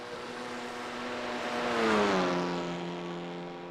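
Honda Civic TCR race car in iRacing at Bathurst, a raspy engine note that swells as the car approaches and passes, its pitch dropping as it goes by, alone without speech.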